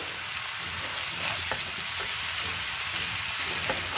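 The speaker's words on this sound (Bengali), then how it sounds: "দেখো এবার আমি ভালো করে নাড়াচাড়া করে নেব" Food stirred in a pan of leftover rohu-frying oil while cooking a light rohu and eggplant curry: loud, constant close-up sizzling broken by occasional scraping stir strokes, with no talking.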